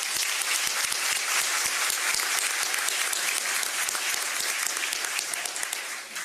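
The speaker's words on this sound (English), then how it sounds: "Everybody, please give these people a round of applause." An audience at the Birmingham mayor's State of the City address applauds: sustained, dense clapping runs loud and even for several seconds, then eases slightly near the end, with no speech over it.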